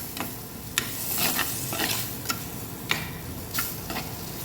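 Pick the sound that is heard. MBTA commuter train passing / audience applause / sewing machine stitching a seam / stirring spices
stirring spices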